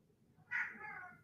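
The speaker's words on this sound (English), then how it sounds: "my cat be out of control" A pet cat lets out one short meow indoors, rising sharply then trailing off, faint against a quiet room.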